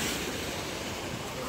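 Sea waves washing at a fish port in steady broadband surf with wind across the mic, continuous and fairly loud with no clear speech.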